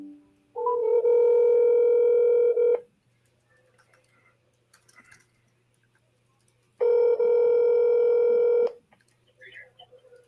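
Outgoing phone call ringing out with no answer, two long electronic ring tones a few seconds apart over a quiet line, loud and close.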